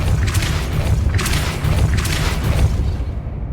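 Depulso spell cast in Hogwarts Legacy, a loud booming burst of magical force that rolls through about three dense pulses under a steady low rumble, fading at the end.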